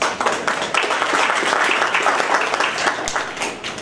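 An audience at a school board meeting breaks into applause, a steady spread of clapping hands at moderate volume that runs for several seconds.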